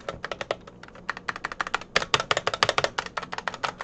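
Rapid typing on a SteelSeries Apex Pro TKL mechanical keyboard, with a steady run of crisp, close key clicks in an irregular rhythm and no talking.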